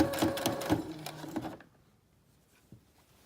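A sewing machine stitches bias tape up to meet existing top stitching, a steady mechanical whirr of rapid needle strokes for about a second and a half before stopping, followed by quiet handling.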